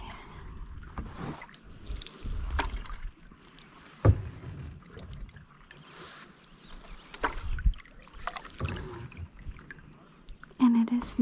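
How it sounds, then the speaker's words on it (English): A solo canoe is paddled across Osa Lake, with repeated close paddle strokes, water swishes and drips coming in an irregular rhythm over a quiet lakeside background. "So we keep on paddling."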